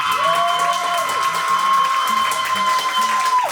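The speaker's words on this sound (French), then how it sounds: "Alors, allez-y, applaudissez!" A comedy-night audience at a Montréal club claps steadily for about three and a half seconds, the applause sitting under loud sustained music with a bright held tone, then cutting off together at the end.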